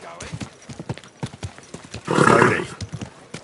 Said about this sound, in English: Someone's been tending this horse.